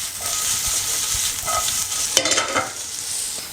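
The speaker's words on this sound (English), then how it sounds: "And then you give them a toss." Green beans and onions sauté in a hot pan, a steady bright sizzle with a quick tossing shuffle and clatter partway through, close and without voices.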